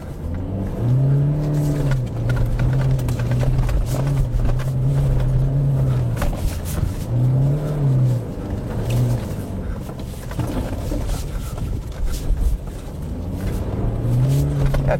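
A Toyota Hilux 2.8 D-4D MHEV pickup drifts with its engine revving in rising and falling surges, loud and close throughout, while someone talks over it at times.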